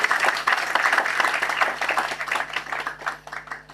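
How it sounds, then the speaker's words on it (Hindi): Brief audience applause in a university auditorium for the vice-chancellor, uneven and fluttering clapping that thins slightly over a few seconds. "इसके लिए जोरदार तालियां हमारे कुलपति"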